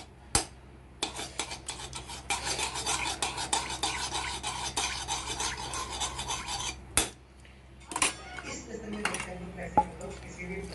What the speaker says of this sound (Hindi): तो मैंने कच्चा कोकोनट लिया है, इसलिए मैं इस कोकोनट को थोड़ा सा फ्राई कर लूँगी।